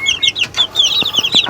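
Chickens and growing chicks at a backyard breeding coop, close and loud, with rapid overlapping clucks and high peeping chirps forming a busy chatter, plus a few soft low thumps.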